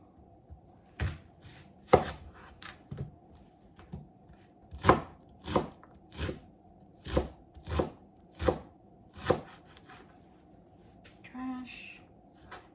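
Knife chopping an onion on a cutting board for cowboy caviar, a dozen or so sharp, evenly spaced chops, close and clear, with a faint voice briefly at the end.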